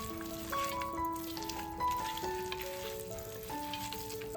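Chicken and potato with masala and turmeric are stirred in a hot pan, making a soft, steady sizzle beneath a gentle melodic tune.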